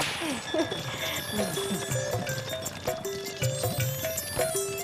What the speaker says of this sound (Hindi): घोड़े भीतर तो नहीं आ रहे हैं।